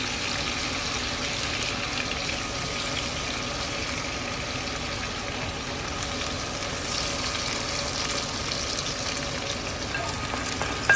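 Onion fries in a pan with a continuous close sizzle and crackle, while occasional scrapes of stirring sound over the steady hiss, and no one speaks.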